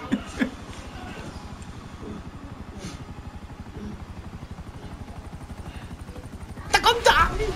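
Steady rapid rotor thumping of a video game helicopter in GTA 5 Online runs throughout, with a voice speaking over it and a brief burst of louder noise near the end.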